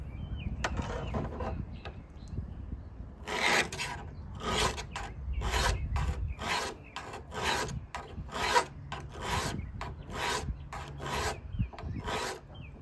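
A $3 Walmart bait knife has its spine drawn at a right angle across a coarse sharpening stone, giving a run of roughly a dozen close, rhythmic rasping strokes with no talk.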